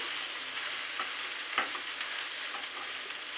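Prawns, turmeric and spices stirred together with taro greens in a pan, a steady broadband sizzle with a few soft utensil scrapes and taps over it, close by and with no voices.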